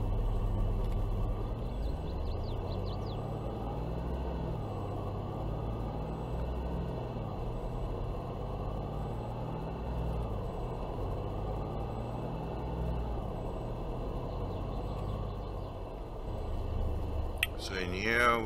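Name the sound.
vehicle driving in video game Farming Simulator 22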